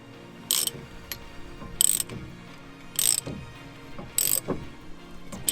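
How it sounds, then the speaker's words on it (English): A ratchet wrench clicks in short bursts of rapid pawl ticks on a car brake caliper, four distinct bursts spaced about a second apart with light mechanical handling in between, close and moderately quiet. "chuck the ratchet on it"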